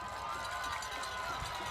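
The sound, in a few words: crowd cheering at high school football game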